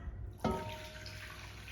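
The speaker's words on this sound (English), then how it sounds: "Now we will put the water in." Water splashes into a cast iron camp oven holding onion, carrot and chicken, a sudden pour that settles into a soft, continuous trickling wash, quiet and close.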